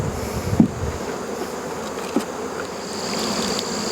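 Honey bees buzz from an open hive in a beeyard, a dense, continuous close-up hum with a couple of louder passes as individual bees fly near.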